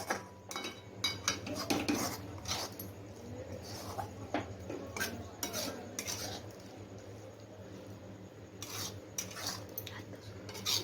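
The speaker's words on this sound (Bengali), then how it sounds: "দেখুন আমি এই ঘি বুলিয়ে আমি এই ঢেলে নিলাম কড়াইটা থেকে" Soft scraping and clinking of a spatula against a wok as thick kalakand is poured and pushed onto a ghee-greased plate, with quiet metallic taps and rubbing at close range.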